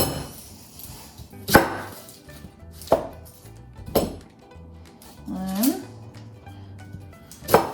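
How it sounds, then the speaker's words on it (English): A kitchen knife halves an onion on a cutting board, giving about five sharp, separate chopping thunks spaced a second or so apart, with a brief voice heard in between. "So I cut my onion in half."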